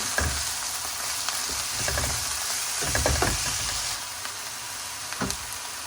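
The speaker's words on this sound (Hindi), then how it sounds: "अब इसमें डाल देंगे 1 टेबलस्पून लहसुन अदरक का पेस्ट। इसको 1-2 मिनट के लिए भूनेंगे।" Garlic ginger paste frying in a pan for masala bhindi, a steady close sizzle with bursts of scraping stirring across the middle and a few knocks near the end.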